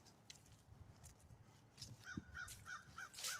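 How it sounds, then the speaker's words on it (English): A big crow caws from a tree in a hillside cemetery, a short run of evenly spaced, fairly faint calls out in the open with light breeze and ambient outdoor noise around it. "big old crow, ain't he? Landing up in that tree."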